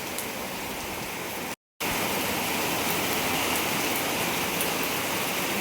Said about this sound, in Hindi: वहाँ पे भी बारिश हो रखी है।